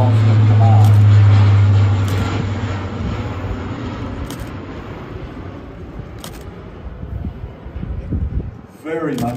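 A RAAF military aircraft's engines drone in a low pass at the Temora Warbirds airshow, loud at first then fading as it departs, with a commentator talking over it.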